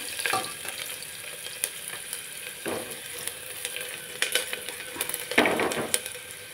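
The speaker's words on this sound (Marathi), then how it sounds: "त्याच्यानंतर कांदा, कांदा छान असा लालसर रंगाचा भाजून घ्यायचा आहे" Onions fry in a pan until reddish, making a continuous close sizzle broken by a few sharp scraping stirs of a spatula, with no voices.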